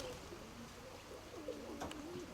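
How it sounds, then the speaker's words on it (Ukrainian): A ring-tailed homing pigeon, bird number 62, coos softly and repeatedly in the open, with faint chirps and light background noise as it settles to land. "Сідає цей голуб, це 62-й, виявляється."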